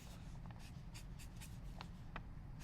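A Sharpie marker scratches across a sheet of paper in short strokes and squeaks, faint and close under a steady background hiss, with no talking.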